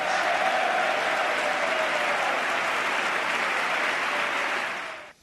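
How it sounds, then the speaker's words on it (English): Steady, full applause from a television studio audience during a segment on the tax system, an even roar of many hands that holds for about five seconds before cutting away. "And that wins them more applause."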